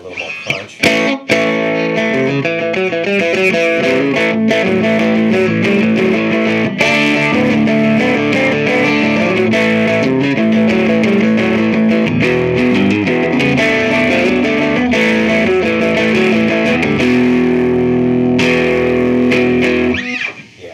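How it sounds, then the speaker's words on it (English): Electric guitar on its middle pickup, lightly overdriven with natural distortion through an EarthQuaker Atlas pedal, playing steady chords and melodic lines loud and close for about twenty seconds with no talking. "There's a little natural distortion and add a little more punch."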